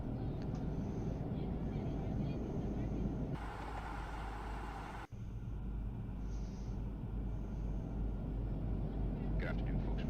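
Cabin noise inside an Airbus A320-232 jet during initial descent toward Washington, D.C.: a deep, continuous roar and rumble that briefly shifts in tone, with a short dip partway through.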